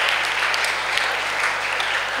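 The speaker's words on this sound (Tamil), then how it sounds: "Very good, super, கைத்தட்டலாமா?" Young people at a youth retreat applaud together, a steady wash of clapping from a nearby crowd lasting a couple of seconds.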